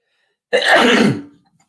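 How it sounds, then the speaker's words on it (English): A single loud, close sneeze bursts out suddenly and trails off quickly into silence. "Hold on, I'm going to sneeze."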